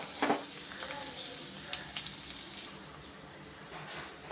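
Ground pirandai paste sautéed in a pan, giving a steady sizzle with a couple of sharp scraping knocks at the start and softer stirring sounds after.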